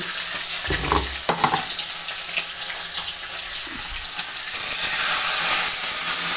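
Fish frying in a pan while a little water is poured in, a busy sizzle with splashing and stirring, then a sharp burst of louder hissing steam near the end, no talking.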